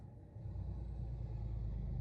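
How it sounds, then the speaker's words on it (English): A loud car passes outside, its low engine rumble swelling and holding steady as it goes by the building. "You hear that car outside? That was incredibly loud."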